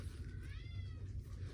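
A cat meows once from a bedroom, a rising and falling call set back from the microphone over a steady low hum.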